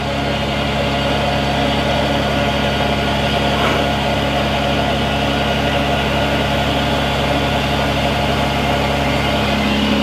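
A 2008 Freightliner Business Class M2 106 truck idles steadily with a constant low engine drone and hum while its air compressor builds air, running continuously with no voices.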